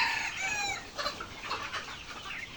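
Seventy-day-old layer pullets cluck and chatter on a poultry farm, a busy, overlapping stream of calls from many birds at moderate distance with no talk.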